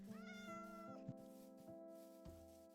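A cat in the video game Minecraft meows a few times in close, clear succession, with no talking.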